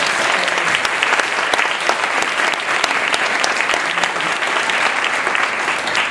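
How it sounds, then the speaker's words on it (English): An audience applauds steadily throughout, a dense, even wash of many clapping hands at a constant loudness with no pauses, in a room where a speaker has just called for a round of applause. "A little round of applause for you."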